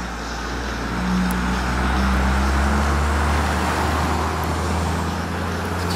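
Steady traffic on a road just outside a town in the evening, with cars rolling past at a moderate distance. A continuous low engine rumble and tyre hiss swell slightly and fade, with no talking.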